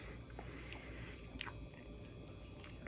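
Close, quiet crunching and chewing of a homemade garden vegetable sausage with snappy casing, filled with tomato, jalapeños and red and green chilies; soft irregular bites and mastication continue without talk.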